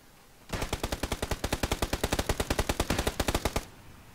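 Automatic gunfire from PlayerUnknown's Battlegrounds: one sustained burst of about thirty rapid, evenly spaced shots lasting roughly three seconds, loud and close, with quiet before and after and no talking.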